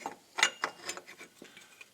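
Screws being fitted into the water pump of a VW Polo 6N2 1.0 MPI during a timing belt change, a quick series of close, faint ratcheting clicks and metallic ticks in uneven rhythm, with no talking.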